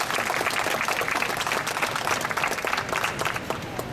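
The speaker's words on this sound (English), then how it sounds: "So let's give them a big round of applause." Audience applause at a culinary arts competition orientation: many hands clapping in a dense, steady patter from a crowd indoors, moderately loud and continuous for the whole stretch with no talking over it.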